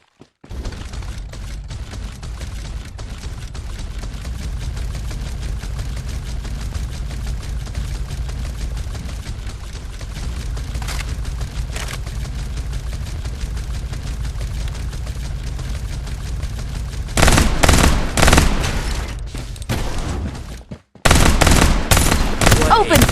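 Rapid automatic gunfire in the mobile shooter game Farlight 84, a sustained loud stream of shots that surges into heavier bursts near the end, with game voice lines over it.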